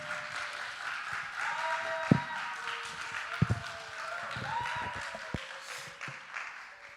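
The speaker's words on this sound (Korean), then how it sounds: "각자의 처소에서 큰 박수로 모시겠습니다" Sparse applause from a small church congregation in a large hall, soft scattered clapping with a few sharper claps standing out, fairly distant and continuing for several seconds.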